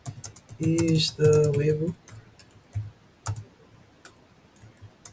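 Quick bursts of computer keyboard key clicks, close and fairly crisp, follow a short stretch of speech.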